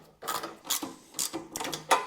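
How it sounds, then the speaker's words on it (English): Bolts tightened on the front exhaust cover of an Ariens Deluxe snowblower, heard as four short bursts of ratcheting metal clicks, close and fairly loud, with brief pauses between them. "I'm just gonna tighten up these bolts here on the front."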